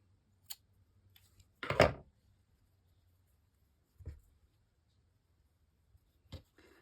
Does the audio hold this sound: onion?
no